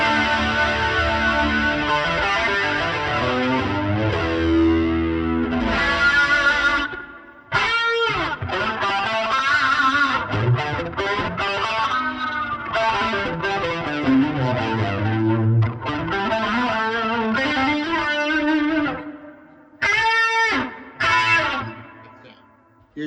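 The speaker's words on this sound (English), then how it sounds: "It's kind of your basic Strat with a bit of gain in it." A 1993 Ibanez S electric guitar through a Helix STOMP XL gives a Strat-like tone with light gain, playing chords and phrases with short pauses and a couple of brief stops.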